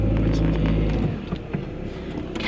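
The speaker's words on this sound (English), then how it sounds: "Lewis is now driving us home" Deep, steady rumble of a car being driven along the road, heard from inside the cabin, loud low drone that eases slightly before building again, with faint knocks and rustles.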